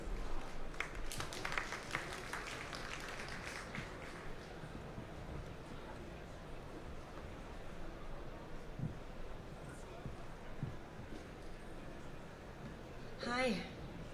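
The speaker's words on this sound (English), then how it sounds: "A big round of applause to our panel" A conference audience applauds a panel with steady, moderately faint clapping that continues throughout, fading a little over time, with a brief sharper sound near the end.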